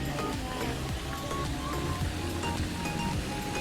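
Water from a waterfall at Wat Khao Yoi, a Thai temple, pours in a steady dense rush that fills the clip, with faint voices blended into the roar.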